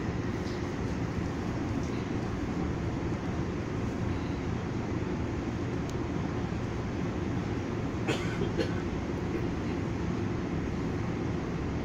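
An EMU613 four-car electric multiple unit local train runs on the Shalun Line from Chang Jung Christian University station toward Shalun station. A steady, loud rolling rumble from on board carries on throughout, with a brief cluster of sharper rail clicks near the end.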